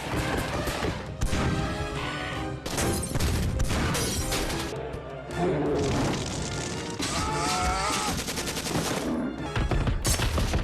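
Army gunfire in a Simpsons Treehouse of Horror cartoon: dense, continuous volleys of shots and crashes fill the whole stretch with loud chaotic battle noise, barely a pause throughout.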